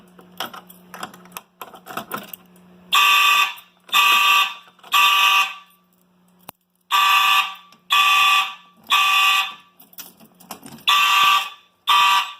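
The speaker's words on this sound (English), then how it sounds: "So if I were just to open the pull station, it would actually already go off." A Simplex fire alarm system set off from a pull station blares loud, evenly spaced horn blasts, about eight pulses separated by short silences, after some faint clicking at the start.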